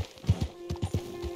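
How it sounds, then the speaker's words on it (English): Horses in the open-world western game Red Dead Redemption 2, with soft hoof clops and snorting in an uneven pattern alongside a steady low tone, moderately close and fairly quiet. "Looks like we've got some horses here with it as well."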